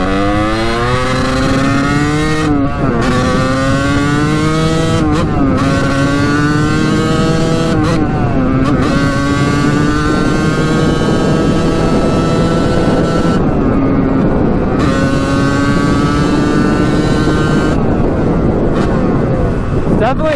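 A 1989 Kawasaki KX125 dirt bike engine revs repeatedly, its pitch climbing through the gears in rising surges, loud and close, with wind noise throughout.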